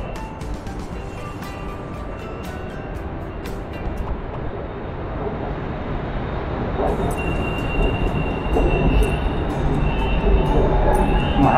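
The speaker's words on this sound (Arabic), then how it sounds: "محطة عملاقة رئيسية" A train moves through a large main railway station in Bangkok, a steady loud rumble of wheels and carriages with high metallic squeals and a rising roar toward the end, close by, with faint voices around.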